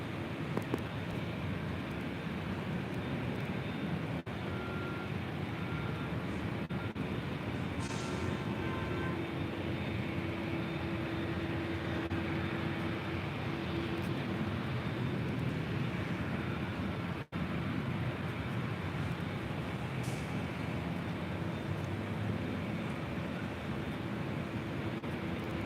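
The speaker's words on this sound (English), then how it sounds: "It's the Air China 777-300ER, next arrival on 24 left." An Air China Boeing 777-300ER airliner arriving on runway 24 left at LAX gives a steady, distant, broadband roar that holds evenly for the whole stretch, with no voices.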